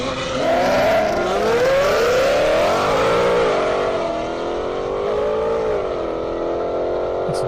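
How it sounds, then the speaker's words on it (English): Lamborghini Aventador accelerating down a half-mile airport drag strip, a loud, close, high-pitched engine wail climbing and dropping through gear changes for the whole stretch. "Hard to beat the sound of that Aventador"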